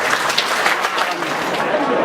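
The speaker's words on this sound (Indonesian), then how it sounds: "Tepuk tangan untuk panitia." Audience applause at a reunion of former employees of PT Anputraco and PT Ankie: a steady wash of clapping for about two seconds, fairly loud and even, with voices mixed in.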